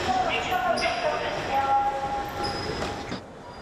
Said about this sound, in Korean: 출근 시간대인 오전 7시 30분, 대표 환승역인 김포공항역에서 4량열차가 도착할 때마다 사람들이 쏟아져 나옵니다.